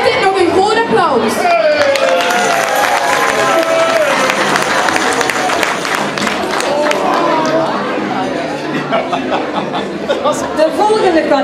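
Audience at a carnival prince proclamation gives a big round of applause, dense clapping mixed with cheers, chatter and laughter from the crowd, loud and sustained, with a voice speaking over it.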